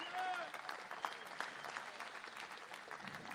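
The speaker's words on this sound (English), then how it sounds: "Let's give these folks a round of applause." Applause from an audience at a Central Arizona Concert Band performance in a school auditorium, a steady dense clapping that stays fairly even from start to finish.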